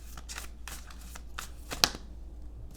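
Tarot cards are shuffled and laid out one after another in soft, close riffling and slapping bursts, with one sharp snap-like card flick, quiet and without talk.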